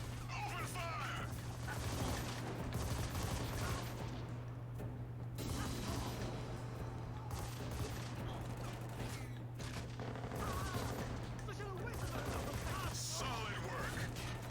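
Gunfire in Army of Two: The 40th Day rattles in quick bursts and scattered shots over a low mechanical hum, fairly faint overall, with voices heard between the volleys.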